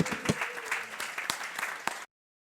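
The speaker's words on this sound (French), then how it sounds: "Est-ce qu'on peut lui offrir une acclamation ?" A church congregation breaks into dense, steady applause for about two seconds, with a few sharper claps standing out, then it cuts off abruptly.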